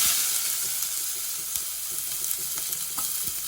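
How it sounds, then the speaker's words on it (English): Onions tipped into a hot pan for a chicken curry, sizzling steadily and close with a bright hiss and small irregular pops, no voices. "get your pan nice and hot, and then you're going to want to dash in your onions"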